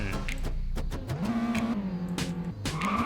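A Roblox car launches hard in high gear, its engine tone rising in pitch with each rev, with tire-squeal hints and clicking bursts, loud and close with no talk.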